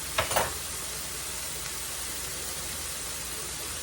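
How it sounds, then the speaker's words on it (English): Peppers, onions and rice fry in a pan for smothered burritos, a steady soft sizzle that holds evenly throughout, with a brief scrape of stirring near the start. "Peppers and onions are cooking, and our rice."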